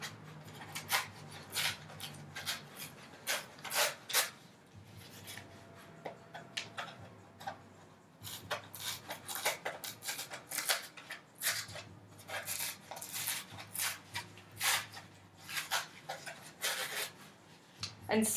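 Corrugated paper is peeled and torn away to expose its ridged texture. Repeated short, crisp tearing and scratching bursts come close by, with brief quiet gaps between them.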